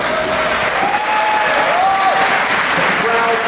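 A crowd at the DreamHack Winter 2010 StarCraft grand final breaks into loud, sustained applause, with a commentator talking over it and faint music tones underneath.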